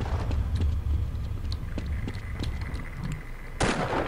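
Sniper gunfire in the Half-Life video game: a busy combat mix of repeated sharp cracks and low rumbling, ending in one loud, broad blast near the close.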